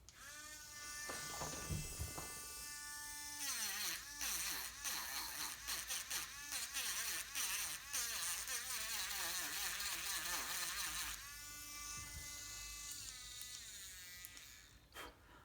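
Rotary carving tool fitted with a hard felt wheel buffing wood, a high whining buzz that rises and falls as the wheel presses and lifts off the surface, fairly quiet and close, with a spinning-down tail at the end.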